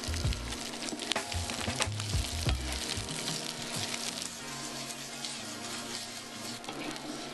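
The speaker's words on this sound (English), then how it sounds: "Once the garlic and parsley have been sizzling for a moment, throw in the cavolo nero and the dried chilli flakes." Cavolo nero, garlic, parsley and dried chilli flakes hiss steadily in a hot pan, a continuous frying sizzle with occasional tossing scrapes, heard close and alone beneath a low background hum.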